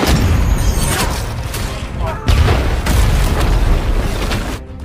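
A loud, close explosion blasts through a jungle action film, with a dense, roaring burst followed by a second sharp impact and rumbling debris, heavy low-end energy throughout.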